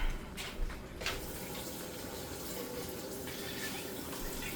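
Tap water running steadily while empty sauce cans are rinsed in a kitchen sink, a continuous gushing wash with a few clinks near the start, fairly quiet and alone.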